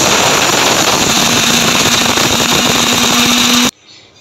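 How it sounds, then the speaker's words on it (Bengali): Mixer grinder jar powdering sago, a loud steady whirring motor close by that runs for several seconds and then cuts off abruptly. "গুঁড়ো করে নিচ্ছি। বড় জার থাকলে আপনারা একবারই করতে পারেন।"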